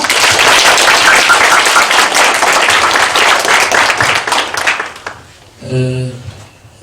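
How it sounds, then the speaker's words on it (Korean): Dense, loud applause from an audience greets poet Na Tae-ju at a school book café author talk. It runs steadily for about five seconds, then fades, and a brief tonal sound follows. "큰 박수로 맞이해 주세요"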